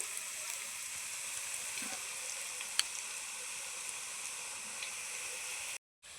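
Boondi frying in oil for boondi laddu, a faint steady hiss of bubbling oil with a sharp tap midway and a brief dropout near the end.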